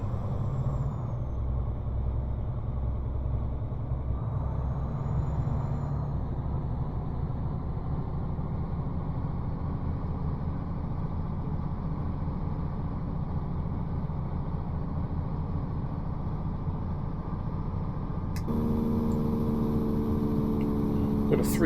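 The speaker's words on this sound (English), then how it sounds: "Got a 3-stage Jake brake on this" A truck's three-stage Jake engine brake drones in a low, steady rumble from inside the cab during a construction haul in Mexico, then shifts to a harsher, brighter note near the end.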